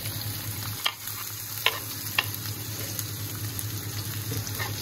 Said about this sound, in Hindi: ऑयल गर्म हो गया है हमने चिकन निकाल के रखा है, सारा साथ डाल दो, सॉटे ही करना है